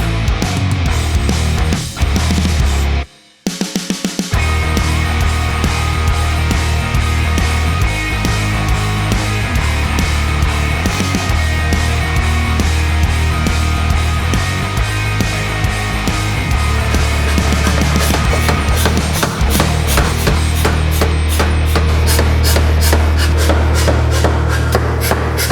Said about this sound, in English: We're gonna tack weld it all together.